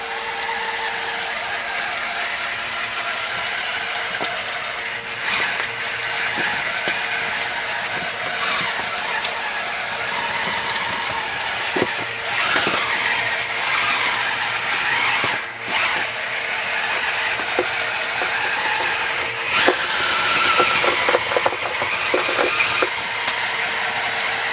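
A variable speed drill spins a homemade mixing tool, its motor straining under load with a continuous mechanical whir and rattling clicks throughout, fairly close and steady, with no voices.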